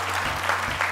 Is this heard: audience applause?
yes